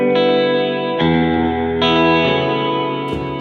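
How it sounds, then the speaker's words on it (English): Electric guitar run through a Dark World reverb and a tape modulation effect in parallel, lush wavering chords ringing with long washy sustain, a few strums over a few seconds, no talking. "So now I'm combining the Dark World reverb with that sort of tape modulation kind of sound."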